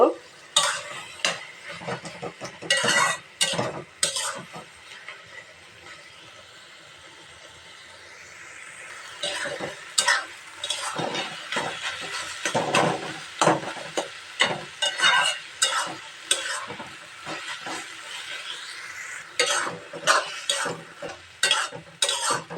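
Pepoli shak greens being mashed and mixed with fish in a pot, loud repeated scraping and clanking strokes of a spoon against metal, with a brief quieter pause midway, no talking.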